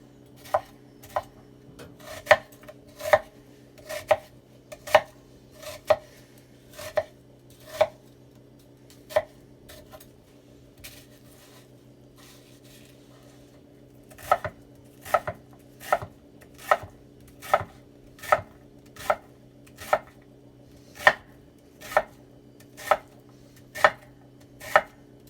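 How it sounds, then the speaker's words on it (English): A knife chops onion and garlic on a cutting board with crisp, evenly spaced taps, a steady run of strokes, a pause of a few seconds, then another quick regular burst, close and clear over a faint hum. "And onion all diced up."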